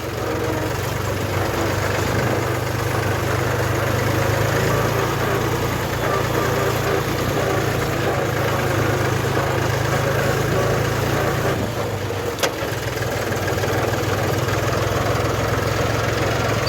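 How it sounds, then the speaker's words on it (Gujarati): A steady engine idles and runs continuously with a low rumbling drone, close by and fairly loud, with no voices over it. "ટ્રેક્ટર લઈને અમે હાલ્યા જઈએ છીએ"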